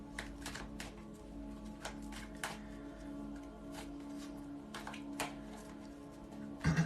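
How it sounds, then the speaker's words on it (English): Tarot cards are shuffled close by, giving soft, irregular papery riffles and taps that repeat in short bursts, with a faint steady hum underneath and no talking. "I'm gonna shuffle a little bit."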